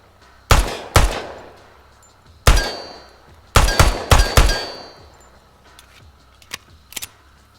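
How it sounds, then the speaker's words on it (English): Gunfire in the tactical shooter Ground Branch: loud, close single shots in uneven bursts, some in quick pairs, followed by fainter metallic clicks and clinks of weapon handling. "you pull out your gun and you get to shoot in, have some fun with it"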